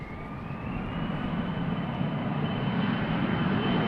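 An Airbus A330 airliner approaches Amsterdam Schiphol Airport, its jet engines a broad steady roar with a faint high whine, growing gradually louder as it nears, with no voices.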